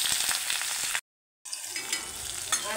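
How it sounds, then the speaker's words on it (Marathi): Finely chopped medium onion sautéing in a pan for cauliflower bhaji, a close steady sizzle with a few stirring scrapes, broken by a brief silent gap before the frying resumes. "आता थोडासा हा कांदा परतवून घेऊ।"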